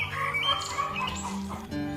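A cartoon chicken clucks and squawks as a fox seizes it, a short agitated burst of hen calls running continuously over a background score.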